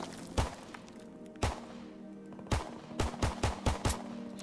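P08 pistol firing in Call of Duty: a run of sharp, punchy shots, three spaced singles followed by a quicker cluster of five, crisp and close over a faint steady game hum with no talk.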